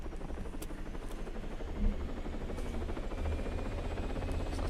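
Helicopter flying in the video game Arma 3, a quiet, continuous rotor drone with a steady low pulse throughout, faint and unbroken, no voices.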